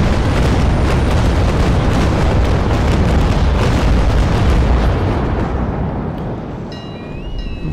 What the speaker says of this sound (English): I'm hoping that this kind of broadside, if it lands nicely, could seal the deal